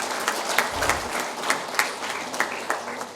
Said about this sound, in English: Please give a very warm clapping to Mr. Pradeep Shetty, Vice President, FHRI.